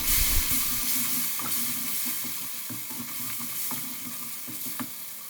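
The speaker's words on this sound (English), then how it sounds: "All the masala is nicely fried." Spices and masala, including fennel seeds, chili powder and garam masala, sizzle steadily in hot oil for a banana flower curry, a close, continuous frying hiss with a few light stirring knocks.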